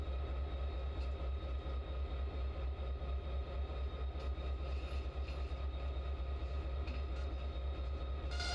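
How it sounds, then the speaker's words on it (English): A train in the Train Works 2 game rumbles steadily as it couples to coal hopper cars, with a low engine drone and faint metallic clanks, and no talking. "Switch the rail and couple the train."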